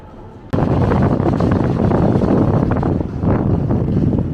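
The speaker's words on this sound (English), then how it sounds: "You guys can hear that wind." Night wind on the Las Vegas Strip, a sudden loud, steady roaring rush of wind buffeting close to the microphone, rumbling and continuous with slight surges.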